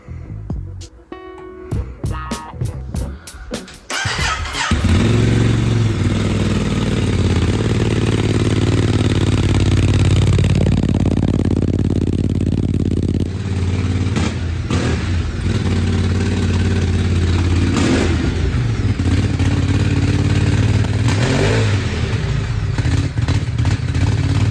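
A Ducati DesertX motorcycle engine cranks and fires after a few seconds of clattering, then runs loud and close with a throaty, raspy idle broken by several sharp revs.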